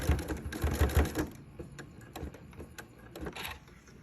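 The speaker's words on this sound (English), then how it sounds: "We're just sewing the whole perimeter a 1/4 inch." A sewing machine stitches a quarter-inch seam around the perimeter of a fabric double-pocket pouch, a fast mechanical whir that is loudest at first, then eases into slower intermittent bursts.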